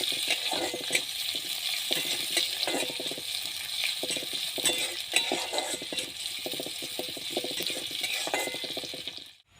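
Onions fry in a pan with a constant sizzling hiss, punctuated by repeated scraping and clinking of a utensil stirring, without any speech.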